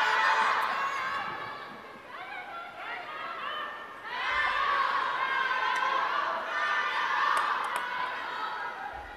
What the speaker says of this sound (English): The fan club's getting at each other now, fighting for supremacy of crowd support.